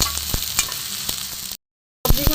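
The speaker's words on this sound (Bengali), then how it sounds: "একটু খুব ভালো করে আমি ভেজে নেবো সবজিগুলো" Mixed vegetables sizzle and crackle steadily while stirred in a pan for a vegetarian moong dal made without onion or garlic, with a few sharp utensil clicks and a brief gap of silence before the frying resumes.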